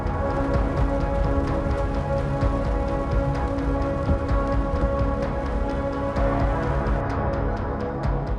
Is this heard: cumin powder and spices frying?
no